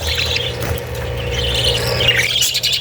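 Parakeets in breeding cages chirp and squawk continuously, with busy overlapping high calls close by over a low background hum.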